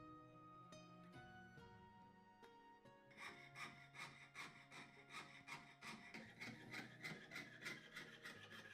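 Brass sheet being cut into corner pieces for a book cover, heard as a steady, close rhythmic rasping like sawing, soft at first and then louder and faster, with no talking.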